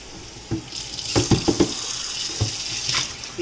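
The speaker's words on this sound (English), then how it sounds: "You just rinse the onion trash out, and you wipe it out." Running water from a kitchen tap rinses out an onion-scrap container in a sink, a steady hiss broken by several short splashes and clunks as the container is handled, close by with no talk.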